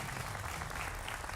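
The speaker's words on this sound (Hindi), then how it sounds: "आपके लिए जोरदार तालियां।" Applause from a television studio audience at a political debate show, dense, steady clapping at a moderate distance that fills the short stretch without any talk over it.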